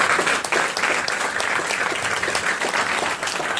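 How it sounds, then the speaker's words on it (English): Continuous round of applause from a seated audience at a business lecture for MBA students, dense even clapping throughout at steady volume. "So give all of you a round of applause."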